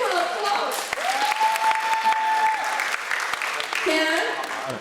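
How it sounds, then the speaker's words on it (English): A seminar audience at a George Town heritage talk claps for a participant, a continuous patter with a voice and tonal sounds over it. "Give her applause."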